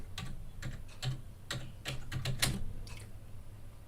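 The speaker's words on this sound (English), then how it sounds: "So on the Google Cloud Console, I will type certificate manager." Someone typing a search into a web console on a computer keyboard: a close, quiet run of separate key taps at an uneven pace over a few seconds, with no voices.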